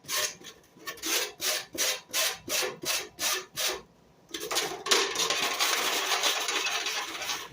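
Sharp edges of a cheap homemade aquarium lid being deburred: a run of regular back-and-forth rasping strokes, then a pause, then steady continuous scraping, close and fairly loud with no talking.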